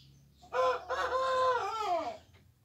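A hen struggling to lay an egg lodged the wrong way inside her gives one loud, close, drawn-out call lasting over a second, with a strained, wavering pitch. The call stands alone against quiet surroundings.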